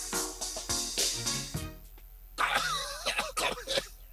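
A person coughs and clears their throat repeatedly in a series of harsh, close bursts, with short gaps between the fits and a brief pause in the middle.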